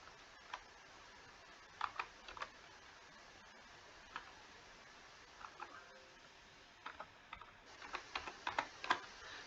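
Keys on a computer keyboard tapped as the phrase 'Pinterest marketing' is entered: faint, close clicks in a short burst, a pause, then a denser flurry toward the end, with no talking over it.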